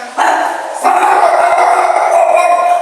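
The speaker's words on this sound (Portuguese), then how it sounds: "é o cachorro" A dog barks and howls nearby in a loud, drawn-out run of overlapping yelps that carries on steadily with little pause.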